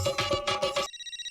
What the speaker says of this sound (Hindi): फ्रेंड्स, पोपट अंकल का फोन है।